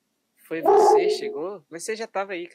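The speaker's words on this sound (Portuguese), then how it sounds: "tem um cachorro latindo." A dog barks and yips at a cat that has just arrived, with sharp, close, loud yelps and whimpering howls early on, then people talking over the last part.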